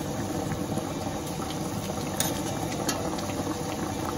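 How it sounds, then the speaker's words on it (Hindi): Rasgulla boiling in a large pot on medium-high heat, a dense, steady bubbling and patter of rolling water with a few sharper pops, close and moderately loud. "अब हम इसे मीडियम हाई पे 5 मिनट के लिए और बॉयल होने देंगे।"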